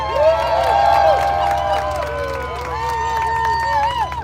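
A crowd at a tank weekend event cheers, hoots and hollers loudly in a sustained burst of shouting and whooping voices, with some clapping mixed in.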